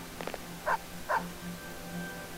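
A dog in the video game Persona 3 FES barks three times, short yappy barks spaced under half a second apart, over a low steady background hum.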